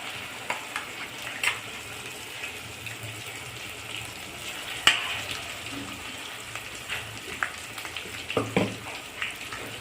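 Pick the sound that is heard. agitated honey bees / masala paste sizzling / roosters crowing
masala paste sizzling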